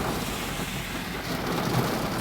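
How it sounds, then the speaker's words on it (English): Heavy rain falls outdoors as a dense, steady broadband hiss, buffeted by wind noise on the microphone, with no speech over it. "it's starting to rain harder"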